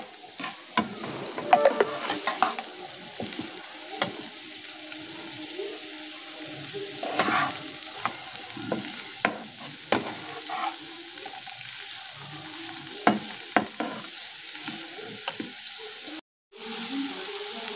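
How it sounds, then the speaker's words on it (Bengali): Restaurant-style fried rice sizzles steadily in a pan while a utensil repeatedly scrapes and clatters through it, close and continuous for about seventeen seconds, broken by a brief dropout near the end, with no speech. "2 মিনিট পর আমরা একটু সবগুলো একসাথে মিশিয়ে দেব।"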